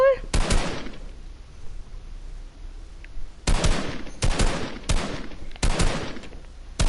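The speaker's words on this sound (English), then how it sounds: "Hey, stop shooting, Mr. Default." Video-game gunfire comes in sharp, loud bursts, one near the start and then four rapid volleys in close succession, with quiet gaps between them.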